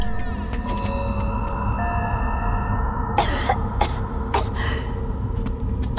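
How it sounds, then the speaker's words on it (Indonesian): A female character in the horror game DreadOut 2 coughs in several short bursts over a steady low game ambience and music. "Lindanya batuk, guys."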